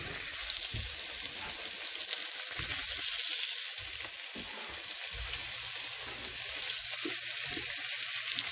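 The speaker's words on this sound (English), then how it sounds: "now we're going to throw in the onions" Onions frying in a pan, a dense even sizzle that fills the whole stretch, with a few soft low knocks and stirring thumps underneath, moderately quiet and steady.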